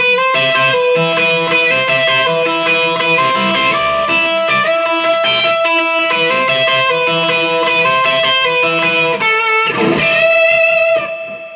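Fast electric guitar solo at full speed, with bright, dense melodic runs and bends, played continuously at steady loudness before ending abruptly near the close.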